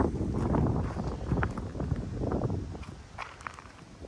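Wind blowing outdoors at Wyangala, a continuous low rumbling buffet across the microphone with gusts rising and easing, no talking.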